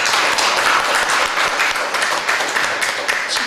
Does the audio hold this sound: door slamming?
no